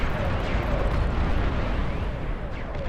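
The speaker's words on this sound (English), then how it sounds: "Artillery coming out." Deep, rumbling booms of artillery fire roll through a chaotic multiplayer RTS video game battle, heavy low blasts blending into a continuous thundering wash with a commentator talking over it.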